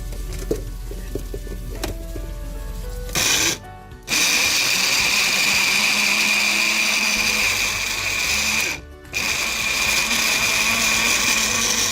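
A blender pureeing tomatoes for a South Indian-style chicken curry, a loud steady whirring motor close by with two brief stops, no talk.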